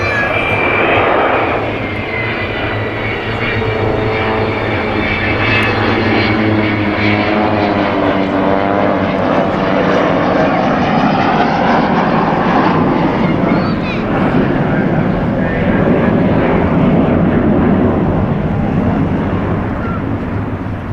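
Avro Vulcan jet bomber with Rolls-Royce Bristol Olympus engines flying past at Cosford Airshow 2013, a loud, sustained engine roar with shifting tones across the whole stretch, while someone talks over it.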